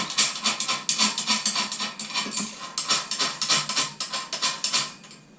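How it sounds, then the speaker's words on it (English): Screws being fastened on a new mount, a rapid run of small ratcheting clicks and mechanical ticks repeating in quick bursts, close and fairly quiet, with no talking. "Fasten all the screws."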